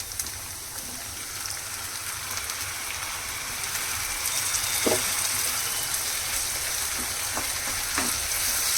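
Two tomatoes frying in a pan for a curry: a steady, even sizzle that grows a little louder partway through, with a few sharp pops and stirring clicks toward the end and no voices.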